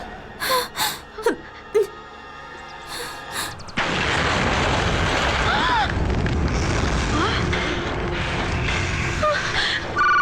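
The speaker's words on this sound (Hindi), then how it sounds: "अभी जो धमाका बाहर हुआ वो घर के अंदर भी हो सकता था" A few gasps and short voices are followed by a sudden loud blast that gives way to a long, sustained rumbling roar.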